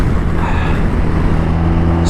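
A BMW R1250RT police motorcycle hums under way, a close, steady low engine drone with even rumbling harmonics, loud and continuous for the short stretch.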